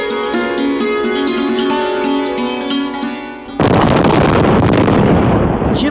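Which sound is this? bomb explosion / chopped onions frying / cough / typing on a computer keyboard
bomb explosion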